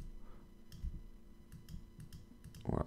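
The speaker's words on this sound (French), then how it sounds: "moi j'appuie sur Shift et je clique" Computer mouse clicking in Photoshop with Shift held, a few faint, sharp isolated clicks spread irregularly over a quiet background, with a louder thump at the end.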